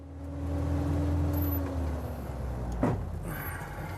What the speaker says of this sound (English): He says you can hear the transmission